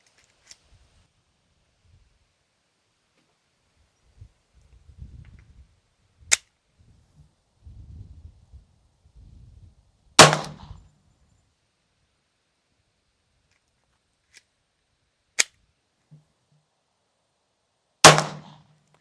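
A suppressed Glock with a .22 LR conversion kit fires a few sharp, isolated shots spread several seconds apart, two of them loud and close, between quiet handling and rustling.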